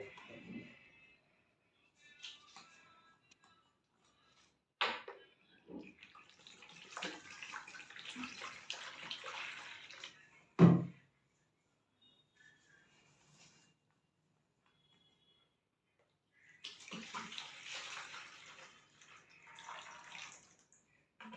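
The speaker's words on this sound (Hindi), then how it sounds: "तो दोनों में बराबर पानी लेते हैं।" Water is poured into two tubs in turn while preparing an oxygen bleach laundry test, giving two separate splashing, gushing pours close by, with quiet gaps and a few small knocks between them.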